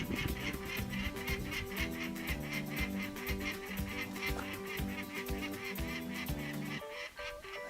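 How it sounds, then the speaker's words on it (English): Near the Silver State Mine in Nevada, a bird calls in rapid, evenly spaced honking chirps that go on for about seven seconds before stopping, faint and steady, with no talking. "Been chirping the whole time I got up here."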